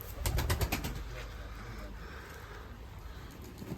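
Arab breed domestic pigeons cooing outdoors in the rain, a burst of low throaty coos near the start, then faint ambient noise and a voice in the background.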